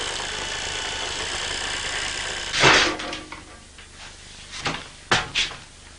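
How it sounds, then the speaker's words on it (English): A motor and chain drive a door gear back and forth in a homemade machine, a continuous mechanical whir broken by a few loud jerky clunks and knocks. "I've also added a motor and a chain. And this drives the door gear backwards and forwards."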